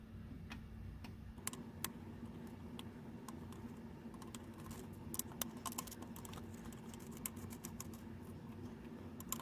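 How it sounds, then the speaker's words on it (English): Faint, close ticks and small clicks of a Phillips screwdriver working screws out of a Game Boy Color board, scattered irregularly over a low steady room hum. "take off these 3 normal Phillips head screwdrivers from the board itself"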